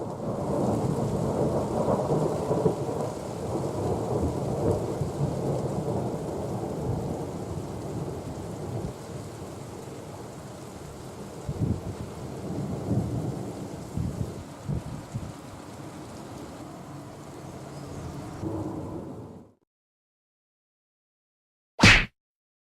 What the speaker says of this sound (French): C'est quand même un orage assez exceptionnel.